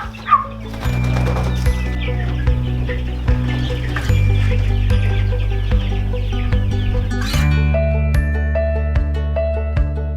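Chickens cluck and squawk steadily, hens and roosters mingling close by, with occasional sharper calls over a constant mechanical hum.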